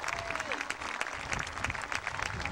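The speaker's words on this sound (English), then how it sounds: "So we need to give our sponsors a big round of applause" An outdoor crowd at a youth baseball opening day applauds sponsors, steady, moderately distant clapping that carries on throughout, with a faint voice briefly audible early on.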